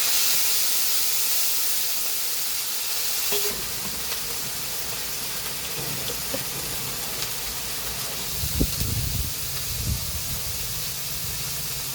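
Green chilli spice paste hits a hot pan with a steady hissing sizzle, with a few soft stirring knocks and scrapes toward the end.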